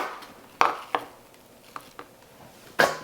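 A knife chops yellow and red onions into big pieces on a cutting board, a few sharp, separate knocks spaced irregularly, close and fairly quiet with no talking.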